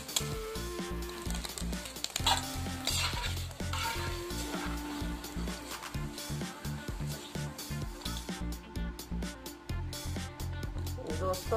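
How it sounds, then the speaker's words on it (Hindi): Small fish frying in a pan give a steady sizzle, mixed under louder rhythmic background music that runs throughout. "दोस्तों, हमने मछली फ्राई कर लिया है।"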